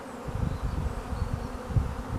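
Honey bees buzz steadily at a hive entrance in spring in a dense, low drone, many insects humming together close by with no voices.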